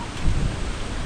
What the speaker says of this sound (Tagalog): Binabayo ng malakas na hangin yung ano. Mga halaman natin.